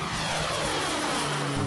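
A Socata TBM700C turboprop with a Pratt & Whitney Canada PT6 engine drones steadily, a loud, continuous broadband propeller and engine roar with a low hum, heard alone.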